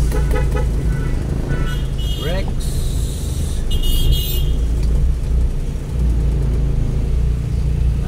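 Busy road traffic in Dubai with a steady rumble of passing cars and buses, a brief horn toot partway through, and a vehicle sweeping by close at times, all continuous without pauses.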